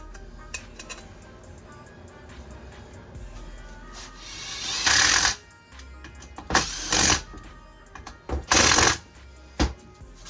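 An impact wrench, called an Ugga wrench, fires several loud, short bursts as it snugs bolts on a transmission, separated by quieter shop noise.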